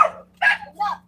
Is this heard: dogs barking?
yes